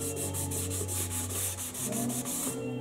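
Rhythmic back-and-forth strokes of 320 and 400 grit sandpaper rubbing down sprayed primer during boat cockpit repairs, a steady close scratchy rasp repeating about every quarter second with no talking.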